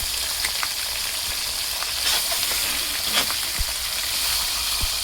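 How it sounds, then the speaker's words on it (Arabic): Chicken pieces fry steadily in hot ghee in a pan over the flame, a continuous close sizzle with scattered pops and crackles, no voices. "انزل كده كل الفراخ اللي معايا بالشكل ده. معايا كده بالشكل ده في الصينية على النار"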